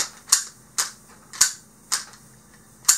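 The slide of a Walther PPQ M2 pistol with a 5-inch barrel is worked to check that it is unloaded, giving five sharp, close metallic clicks at a fairly even pace.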